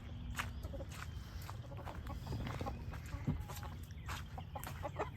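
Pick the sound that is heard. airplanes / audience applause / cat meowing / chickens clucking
chickens clucking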